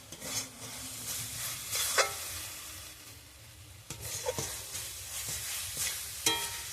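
Bengali masala spice paste fries in oil for a mango-paste chicken curry, giving a soft continuous sizzle broken by repeated scraping spatula strokes at irregular intervals, close and fairly quiet.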